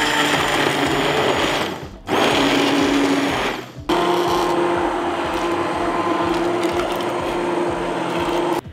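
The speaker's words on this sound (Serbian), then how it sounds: "I sada ću sa štapnim mikserom sve ovo ispasirati." A stick blender purées cooked apple, tomato and onion with a loud, steady whir, cutting out briefly twice and then running continuously to the end.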